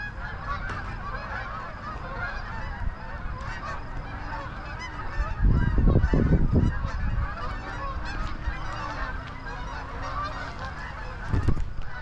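Geese honk in a noisy burst as they fly past overhead in Winnipeg, Canada, in September, with a few more calls near the end over steady outdoor background noise.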